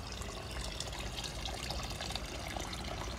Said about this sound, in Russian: Теперь пошла вода.